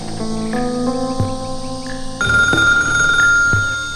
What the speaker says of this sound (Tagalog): Agri-ring ti telepono iti abay kung agbasbasa iti magasin.